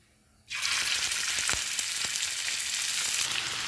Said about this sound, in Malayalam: അപ്പോൾ നമുക്കിനി ഇതൊന്ന് പൊരിച്ചെടുക്കാം.